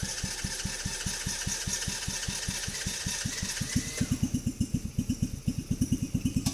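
A Coolster Challenger 125 buggy go-kart engine starts with the choke on, a steady rapid putter that roughens and grows louder midway, then settles into a pulsing idle, close and alone.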